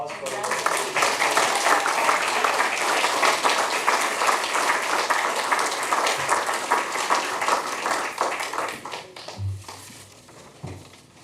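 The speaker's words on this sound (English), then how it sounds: "All right, final round of applause." A roomful of people at a city council meeting give a sustained round of applause that holds strong for about nine seconds, then thins out and fades, with a few brief voices at the end.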